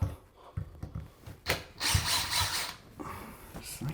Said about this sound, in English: And then we remove the handle.